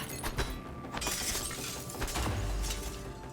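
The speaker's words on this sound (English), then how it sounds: "picking up the wrench, we can smash the glass window" A glass window smashed with a wrench in the video game Prey, with several bursts of shattering and crashing over a low rumble, the loudest impact coming midway and glass fragments scattering after.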